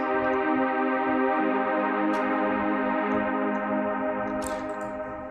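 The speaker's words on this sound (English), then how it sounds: "it's an Omnisphere stock, essentially saw brass preset" A processed Omnisphere Juno-style brass saw synth pad, saturated and blown out in a hazy lo-fi techno style, holds one sustained, thick chord loudly and steadily throughout, with faint ticking clicks on top.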